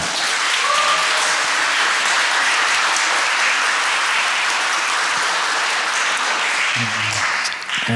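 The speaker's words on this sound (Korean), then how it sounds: "시간을 내주신 주임 신부님을 큰 박수로 모시겠습니다." Loud, continuous applause from a church volunteer workshop audience welcoming the parish priest carries on for several seconds before thinning out at the end.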